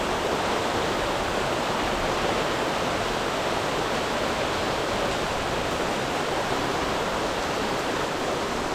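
Heavy rain pours onto roof underlayment in a steady, dense roar that stays constant and loud from start to finish, with no voices.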